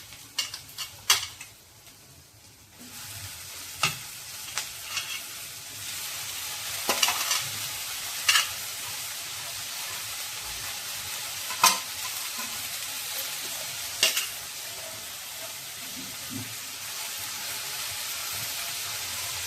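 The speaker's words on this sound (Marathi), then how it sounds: "भाजी आपण परतून घेऊया." Vegetables and onion are sautéed in a pan with a continuous sizzle, while a spoon stirs and scrapes them with intermittent clanks against the metal.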